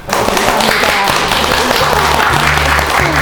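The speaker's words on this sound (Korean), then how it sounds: "박수와 함께 오늘의 모든 모임을 마치겠습니다." A room full of people applauding at the close of a poet's first poetry collection celebration, dense and steady clapping throughout, with some voices mixed in.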